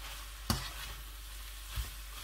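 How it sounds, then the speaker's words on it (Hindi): Grated carrots being stirred in a pan for gajar halwa, a quiet steady sizzle broken by a sharp utensil knock and a later soft scrape. "अभी अच्छी तरह से गाजरों को मैं मिक्स करूंगा"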